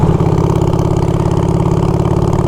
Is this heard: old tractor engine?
yes